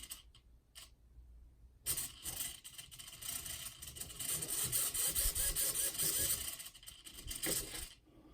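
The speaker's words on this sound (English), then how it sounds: "See how the servo is moving?" RC servo motor on a RadioLink RC6GS setup whirring and moving, a close, bright buzzing mechanical sound with short ticks at first, then a sustained fluctuating run for several seconds.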